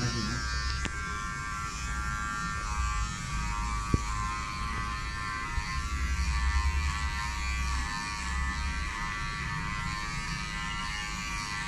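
An electric hair clipper buzzes steadily and loudly throughout a haircut, running nonstop with a constant motor hum and only slight shifts in tone as it moves through the hair.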